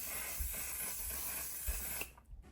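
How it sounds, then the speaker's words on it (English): One Size waterproof setting spray misted from a bottle onto a face, a soft continuous hiss lasting about two seconds before cutting off, close and fairly quiet. "Now we're gonna finish it off by using One Size"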